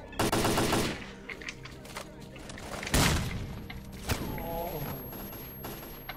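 Enemy gunfire in S.T.A.L.K.E.R.: Clear Sky, a close rattling automatic burst at the start, then scattered shots and a heavy thudding hit, with someone speaking in between.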